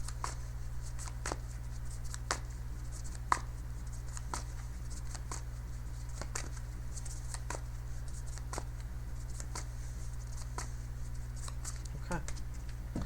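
Tarot cards are shuffled by hand in a quiet room, giving soft repeated riffling ticks at a regular pace over a steady low electrical hum.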